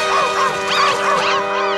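A cartoon puppy yaps in a quick series of high, whiny barks and yips, loud and close, with a short whimper mixed in and no talk over it.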